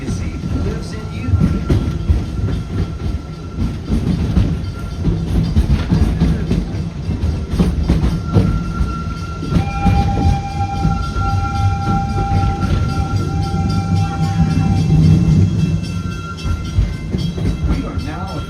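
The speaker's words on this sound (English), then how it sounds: "We are now approaching the Harambe train station." Train rumbling into Harambe station at Disney's Animal Kingdom, with a steady, loud rolling roar and rail clatter for the whole stretch. A long tonal whistle or horn line appears partway through, and a voice is faintly present at times.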